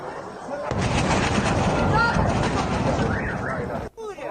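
Heavy blasts from an Israeli strike on IRGC positions in Kurdistan build into a dense, sustained roar of booms and rumbling lasting several seconds, loud and close, before cutting off abruptly.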